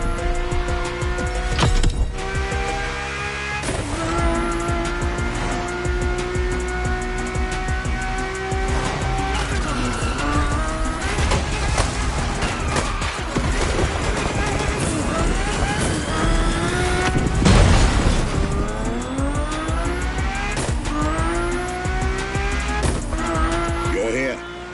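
Ferrari F40 and F50 racing in The Crew Motorfest, engines revving up and down through gear changes with tire squeal, loud and continuous, while a voice talks over it.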